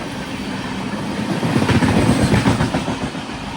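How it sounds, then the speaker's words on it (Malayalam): Chennai–Madurai Tejas Express pulling into a station, a broad rumbling roar with rhythmic clatter of wheels over rail joints swelling as it draws near; no voices. "ഇവിടെ നിർത്തിയ സമയത്ത് ഒരു ട്രെയിൻ വരുന്നത് കാണുന്നു."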